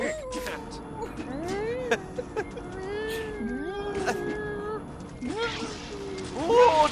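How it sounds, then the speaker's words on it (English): A cat meows repeatedly in drawn-out, rising and falling cries, fairly close, with a few shorter calls between them. "Cat."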